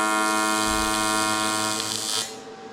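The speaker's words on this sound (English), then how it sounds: "3 little spot welds" Tack welds are laid onto snowcat turbo tubing, making a loud, steady electric buzz close up that runs almost three seconds before cutting off abruptly.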